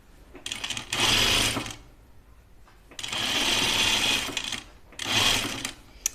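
Home sewing machine stitching a dress seam in three sustained bursts, each running steadily for about one to two seconds with short quiet pauses between, close and fairly loud.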